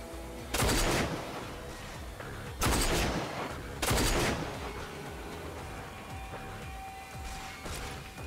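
Three loud, sharp sniper rifle shots ring out in the video game RAGE at irregular intervals, each trailing off into a rumbling echo, with low background din continuing between them.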